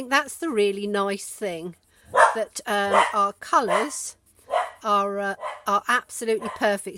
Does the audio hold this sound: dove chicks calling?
no